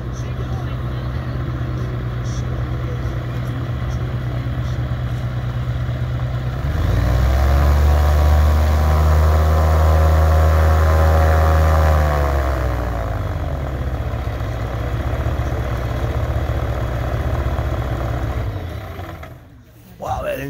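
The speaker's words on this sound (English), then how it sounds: "Sounds like it's taking off again." Float plane engine running on a lake, a steady droning hum that swells louder for several seconds in the middle, settles back to a lower drone, then cuts off abruptly near the end.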